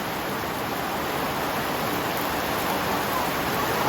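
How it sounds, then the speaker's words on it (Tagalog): Steady, dense hiss of heavy rain pouring during a storm in a village, continuous, broad and unbroken with no pauses, close and loud throughout. "Ang lakas ng ulan dito sa aming baryo."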